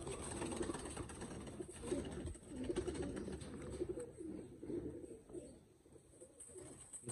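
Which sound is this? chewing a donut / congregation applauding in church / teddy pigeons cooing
teddy pigeons cooing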